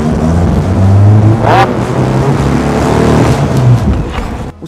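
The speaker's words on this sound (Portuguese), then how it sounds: "Dá uma acelerada aí." Volkswagen Beetle Hebmüller convertible with a 2.0 engine revving up loudly from close by, a deep sustained engine roar that rises and holds, with a brief spoken word from a man.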